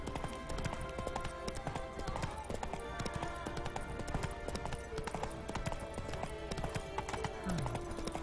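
Horse hooves clip-clop steadily while riding in The Witcher 3: Wild Hunt, a continuous rhythmic trot under a busy game soundscape with music, and a brief whinny near the end.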